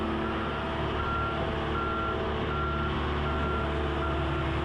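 A truck reverses with its backup alarm beeping steadily in an even, repeating rhythm over a loud, constant engine rumble. No voices are heard.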